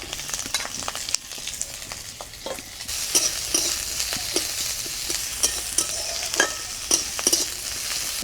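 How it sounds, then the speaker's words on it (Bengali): Garlic, ginger and onion sizzle and crackle steadily in oil in a pan while a utensil stirs and scrapes in repeated taps, close up with no voices. "অল্প তেল দিয়ে দিব রসুন আদা আর পেঁয়াজটাও হালকা ভেজে নিব"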